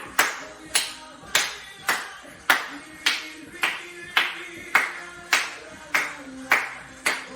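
A dance class of seniors claps in steady time, about a dozen crisp hand claps spaced evenly over Latin dance music, each sharp and close with a quick decay.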